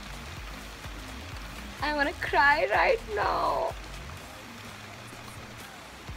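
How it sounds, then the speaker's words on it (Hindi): Steady rain falls throughout, a constant even hiss of drops on surfaces, while someone speaks briefly and emotionally in the middle. "बंद हो जा बारिश प्लीज़, आज मत बरसो कल बरस लेना"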